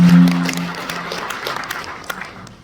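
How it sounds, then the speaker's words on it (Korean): An audience at a politician's parliamentary report meeting, with daycare teachers present, breaks into applause that swells briefly at first and then fades, with a short tone at the start. "박수 한번 쳐주시죠."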